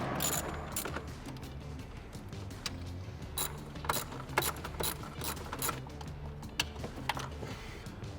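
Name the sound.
ratchet removing 8mm bolts on Ford F-150 fuel rail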